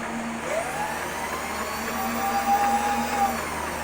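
A partially CNC-converted milling machine running on rapid feed gives a steady, fairly loud mechanical hum with a thin whine that rises and falls gently, heard on its own without speech.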